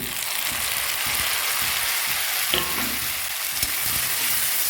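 Onions and tomatoes sauté in a pan for egg kulambu, a steady loud sizzle with a few scraping stirs of a spoon, no talking.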